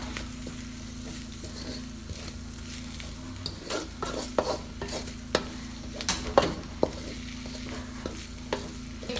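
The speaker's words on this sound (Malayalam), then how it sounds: "ഇനി ഈ പൊടികളെല്ലാം ഒന്ന് ആ എണ്ണയിലൊന്ന് വഴറ്റിയെടുക്കണം" Spice powders sauté in hot oil for chicken puff masala, a continuous sizzle broken by repeated scraping and tapping strokes of a spoon stirring in the pan, growing busier toward the end.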